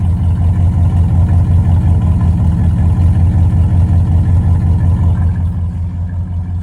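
Close, loud rumble of a 1969 Pontiac Grand Prix's 400 cubic inch V8 with dual exhaust, with a low, pulsing throb that eases off slightly near the end.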